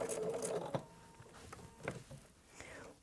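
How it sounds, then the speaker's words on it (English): A sewing machine stitches a thick denim seam in short bursts, a fast mechanical whir followed by a few slower single stitches and small clicks, close and fairly quiet. "and continue stitching."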